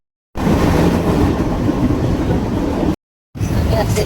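Mumbai local train running, a loud steady rumble and rattle of wheels on track that cuts out briefly, then resumes.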